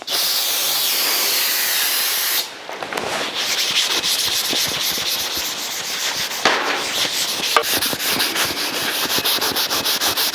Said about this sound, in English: Let's try a little brake clean in 3M Scotch-Brite.